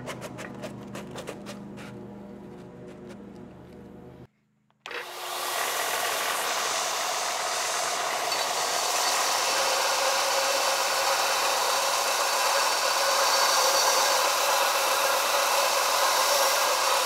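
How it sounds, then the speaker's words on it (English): A belt sander sharpens the knife blade of a 60-year-old New Holland Super 78 wire tie baler, with a steady loud whirring grind running continuously after a brief cut of silence, following a stretch of rattling shop noise. "we're gonna go ahead and take it over to the belt sander and we're actually gonna sharpen this up"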